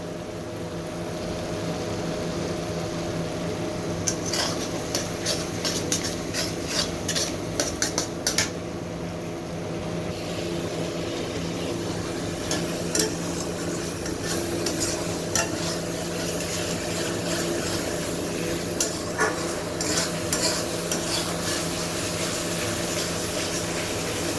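Spice masala sautéing in a pan for prawn curry with a splash of water and coriander powder added, a continuous sizzle punctuated by repeated scraping and clinking of a spatula against the pan.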